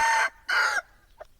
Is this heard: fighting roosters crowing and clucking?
yes